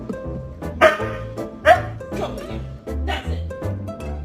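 A dog gives a few sharp barks and yips, two louder ones standing out, close by while people chatter and laugh indoors around it.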